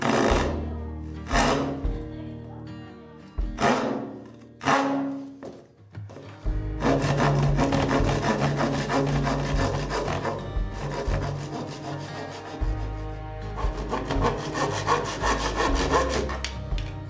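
Pine 2x4 boards are cut with a hand saw: a few separate rasping strokes at first, then a long run of fast, loud, rhythmic back-and-forth sawing close by.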